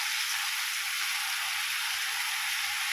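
Mixed Hakka noodles, restaurant style, dropped into a hot pan with chopped tomatoes already in, giving a steady, dense, close sizzle that fills the whole stretch with no voices.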